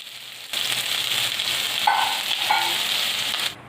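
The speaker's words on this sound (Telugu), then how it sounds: "ఇంకోవైపు కట్ చేసి పెట్టుకున్న పొట్లకాయలను అయితే డీప్ ఫ్రై చేసుకుంటున్నానండి." Cut snake gourd pieces deep-frying in hot oil, a loud, close bubbling sizzle that starts abruptly, holds steady with brief brighter flares, then cuts off.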